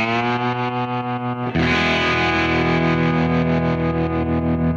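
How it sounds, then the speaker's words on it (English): An electric guitar in open E tuning, picked with the index finger lightly brushing the strings, rings out with sustained open chords through distortion and chorus effects, then a louder strummed chord swells in and holds. "The intro sounds really cool in this open tuning with the index finger lightly brushing the strings along with the pick"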